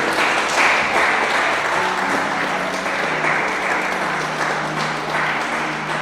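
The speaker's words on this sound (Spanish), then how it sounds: "Den una ofrenda de aplausos a nuestro Dios." Congregation applause during a Spanish-language evangelical church service in Teoloyucan: dense, steady clapping from a full room that fills the whole stretch without pause, with no speech over it.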